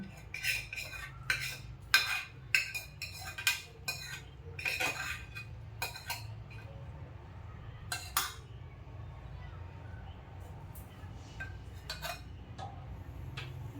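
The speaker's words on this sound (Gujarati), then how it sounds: "ચમચીથી એ બધું મસાલેદાર નાખીને હલાવી" A spoon stirs spices into a pot for sambar, giving a run of quick metallic clinks and scrapes at first that thin out to occasional taps over a low background hum.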